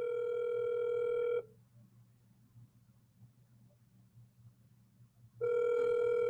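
A phone ringback tone sounds, one long tone, a few seconds of near silence, then the tone starts again.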